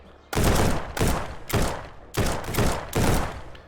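Game gunfire in Withstand Survival, an early-access survival game: six sharp, loud bursts of shots in quick succession, each ringing out briefly before the next.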